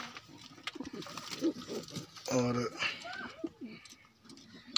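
Breeding pairs of pigeons coo in soft, repeated low calls close by, while someone talks over them.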